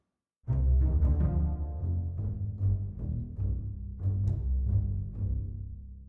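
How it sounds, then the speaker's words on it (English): Sampled bass pizzicato strings from the CineStrings CORE library, a run of deep plucked notes, close and resonant with a reverb tail, played alone. "Then we have bass pizzicato and Legno. So standard pizzicato."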